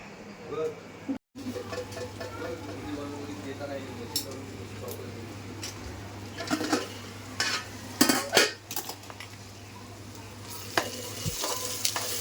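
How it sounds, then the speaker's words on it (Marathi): Onions sautéing in a pan for vegetable biryani in a home kitchen, a continuous sizzle with repeated spatula scrapes and metallic clinks against the pan, a low steady hum beneath and occasional voices. "चला कांदा परतवून घेऊया"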